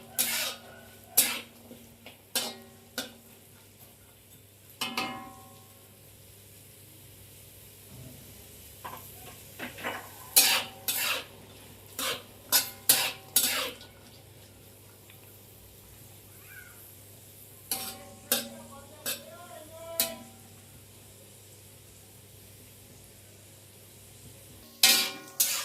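Peas and vegetables for basmati fried rice are stirred in a pan, with sparse sharp scrapes and clinks at irregular intervals over a faint background hum, close but fairly quiet.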